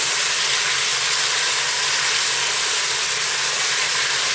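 A steady, bright sizzling hiss of roughly chopped onions frying in a pan, constant and close with no talking.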